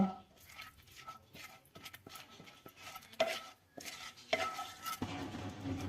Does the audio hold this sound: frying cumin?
yes